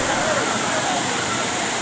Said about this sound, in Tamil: ஃபைவ் ஃபால்ஸில் முதல்ல குளிக்க போயிருந்தோம் பாருங்கள் தண்ணி வந்து எவ்வளோ ஃபோர்ஸாக விழுகுது